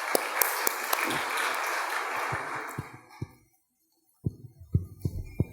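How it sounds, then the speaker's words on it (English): Audience applause for Laith Al-Harthi at a business event, a dense burst of clapping that fades out after about three seconds, followed by quiet and a few scattered isolated claps. "please give a round of applause to Laith Al-Harthi"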